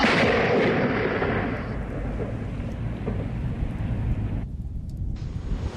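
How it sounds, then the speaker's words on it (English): A rocket fired to trigger lightning roars off its launcher, starting loud and broad and then settling into a continuous rumbling hiss that carries on for several seconds and ends with an abrupt cut in the high end, heard without speech. "the rockets are fired using fiber optic cables"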